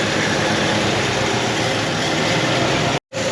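Ford Fairlane barn find, parked over 29 years, idles with a rough, raspy exhaust rusted away along one side, a steady close rumble that cuts out briefly near the end, no talking.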